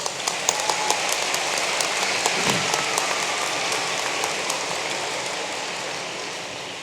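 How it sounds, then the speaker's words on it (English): Audience applause at the Metro Tech completion ceremony in 2012, as board members are introduced, a steady wash of many hands clapping that stays dense and even for several seconds before thinning slightly at the end. "Please give them a round of applause."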